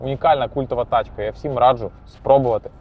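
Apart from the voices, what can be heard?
No everyday noise stands out behind the speech.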